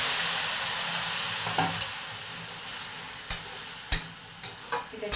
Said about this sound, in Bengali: এবারে বাঁধাকপিটা দিয়ে সাঁতলে দিচ্ছি